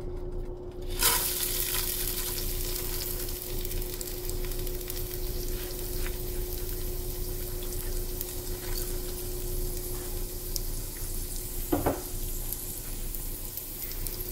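Rice fries in hot clarified butter with cloves, a steady sizzle under occasional stirring scrapes and a brief clink from the pan, close and continuous with no talking.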